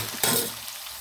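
Tempering seeds and green chillies hit hot oil in a pan, setting off a sudden burst of close sizzling that settles quickly to a softer crackle within a second.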